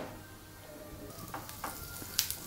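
Mustard seeds and cumin crackle in hot oil in a kadai, a soft close sizzle with a few sharp pops, the loudest near the end.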